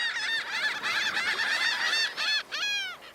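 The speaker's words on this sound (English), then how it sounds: "lots of birds came down from the sky, and they began to take all the fish from his boat" A flock of birds swoops down onto a fishing boat to snatch the catch, giving loud, overlapping honking calls in quick repeated bursts close by.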